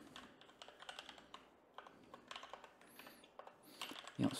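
Computer keyboard typing while writing Java code: bursts of light, fast key clicks with brief pauses between runs, fairly close and alone, a slightly heavier keystroke near the end.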